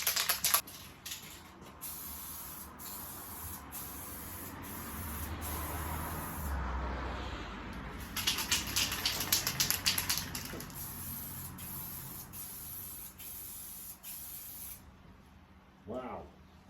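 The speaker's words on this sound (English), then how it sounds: "and then we'll spray some paint." A spray paint can hisses steadily as a clear coat goes onto a 2005 Toyota Tundra headlight, with continuous bursts close by and a louder stretch midway, ending in a brief quieter tail.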